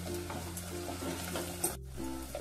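Chili, garlic and ginger paste sautés in a pan for Punjabi kadhi pakoda, a steady close sizzle with light stirring scrapes and a brief dip near the end, no voices.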